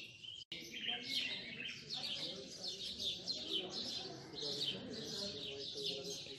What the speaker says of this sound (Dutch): Echt zo leuk om nou gewoon weer tussen de vogels rond te lopen.